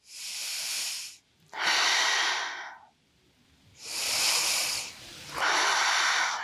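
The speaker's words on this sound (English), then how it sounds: "breathing here in our twist" Slow, deep breaths held during a yoga twist, four long airy hisses alternating inhale and exhale with short quiet gaps between, close and clear with no talking.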